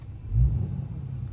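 Ram 2500 Cummins Limited Longhorn diesel truck from 2021, its engine giving a deep, low rumble that swells briefly then settles into a steady idle, heard from inside the cab.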